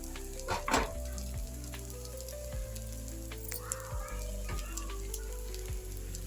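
Sago pesarattu batter sizzles steadily on an oiled hot pan, a close, soft crackling fry with a few faint clinks and a brief louder scrape near the start.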